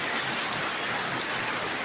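Heavy rain pours down in a dense, even hiss that stays constant and fairly faint throughout, with no talking.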